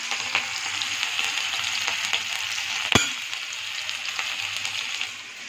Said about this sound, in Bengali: এবার একটু হালকা ভাজা করে নেব